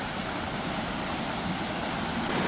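Strong, steady rushing of a mountain stream after heavy rain, a dense unbroken roar filling the whole clip.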